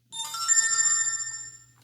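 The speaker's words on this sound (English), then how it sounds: "when you receive a notification, yes, it has ringtone" The notification ringtone of a Vwar S9 Ultra Elite smartwatch: a short, bright electronic chime of a few clear tones that starts abruptly, rings for about a second and a half and fades, heard alone and close.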